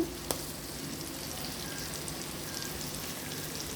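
Onions with salt frying in a clay pot, a soft steady sizzle with a single sharp tap near the start, faint and alone.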